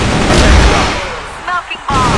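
A grenade explosion in the shooter CrossFire, a loud blast with a rumbling tail amid other gunfire, followed by a short spoken call.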